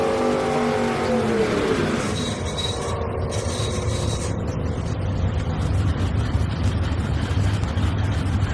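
Drag racing cars, a 2000 Camaro and a stick-shift Mustang, roar loudly and continuously at a drag strip, engines droning with a rising whine early on and steady heavy rumble throughout.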